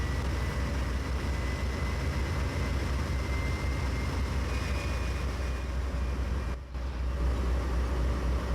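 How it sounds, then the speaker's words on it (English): Dash-8 diesel locomotive engine in the Trainz 2019 simulator, a steady low droning rumble with a faint tonal whine, continuous and even throughout. "this is just your usual JointedRail -8 engine sound"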